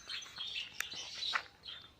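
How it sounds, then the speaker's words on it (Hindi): Small parrots chirp inside a netted aviary at Bannerghatta Biological Park zoo near Bengaluru, giving a few quick, moderately faint tweets and calls spread over a short stretch with no talking. "छोटे छोटे तोते हैं।"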